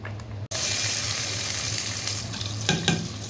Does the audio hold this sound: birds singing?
no